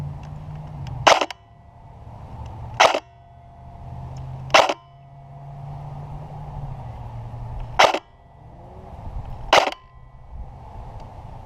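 A Krytac MK2 CRB airsoft rifle fires at a distant target outdoors: five sharp, loud single shots spaced one to three seconds apart over a low steady background hum.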